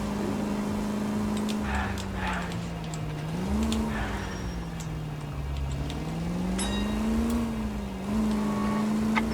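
A car driven through city streets in the 1940s Los Angeles crime game L.A. Noire, its engine a steady drone that rises and falls as it shifts and accelerates, with light ticking and road noise over nine seconds.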